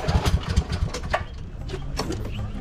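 A car engine on a race track as the throttle is pressed to the floor, throbbing in loud low bursts at first, then settling into a steadier rumble.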